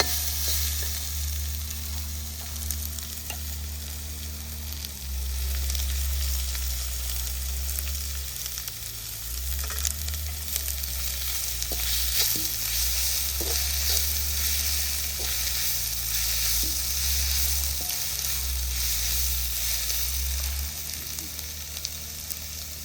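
Manchurian frying in oil on a wood-fired clay stove gives a continuous, loud sizzle close by, with a steady low rumble from the fire underneath and occasional stirring.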